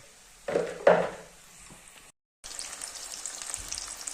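Potatoes and vegetables for Tunisian keftaji frying in hot oil, a steady close sizzle with two louder crackling bursts near the start, a brief gap, then continuous bright frying hiss.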